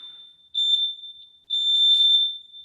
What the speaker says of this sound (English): when this clock beeps, it's going to be your 1 minute of guaranteed rest time.